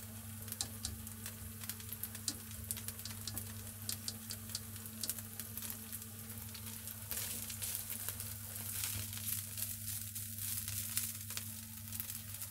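Vegetables sizzle steadily in a hot pan on the stove, a continuous close frying hiss with faint ticking crackles, no voices over it.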